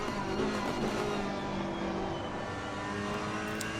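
Ferrari and Porsche GT3 race cars in Assetto Corsa Competizione at Paul Ricard, steady high-pitched engine drone with tonal whine, held at a constant loud level with no talk.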